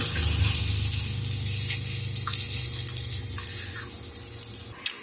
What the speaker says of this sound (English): Now I'm just going to let these cook a couple minutes per side